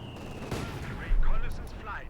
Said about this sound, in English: Mortar lands a decent hit